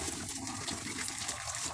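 Water poured onto plaster being mixed for an eggshell plaster slab, a steady close liquid splashing and trickling that runs throughout without break.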